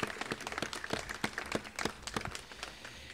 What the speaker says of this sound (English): absolutely, you can applaud